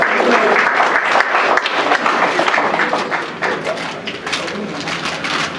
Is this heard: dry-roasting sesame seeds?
no